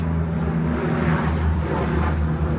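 A fixed-wing airplane passes overhead, producing a loud, steady low roar with a broad hiss above it that stays constant throughout, with no talking.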